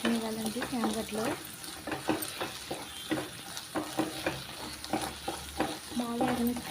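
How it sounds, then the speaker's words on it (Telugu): Taro roots frying in oil in a pan, a continuous sizzle broken by rhythmic clinks and scrapes of a ladle stirring, with a voice talking faintly underneath. "బాగా ఆయిల్లో వేగనివ్వాలండి చామగడ్డలు"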